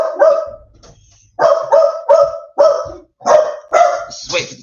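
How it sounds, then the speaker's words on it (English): Dogs bark outdoors in a run of sharp, loud barks, about seven in quick succession after a short pause, close by, with a few yips mixed in and no talking over them. "Let's wait for the dogs to"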